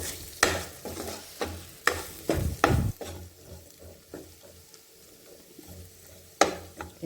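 Vegetables for pasta stirred in a pan, a spoon scraping and clattering in a few bursts over a soft, steady sizzle, close and fairly quiet.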